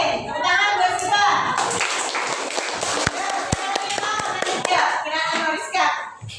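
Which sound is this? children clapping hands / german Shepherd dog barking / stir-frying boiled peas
children clapping hands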